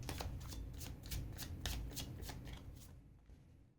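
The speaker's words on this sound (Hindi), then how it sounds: "फिर से हम शफल करेंगे" Tarot cards being shuffled by hand, a close, quiet run of rapid riffling flutters with regular soft slaps for about three seconds before trailing off into silence, with no voice over it.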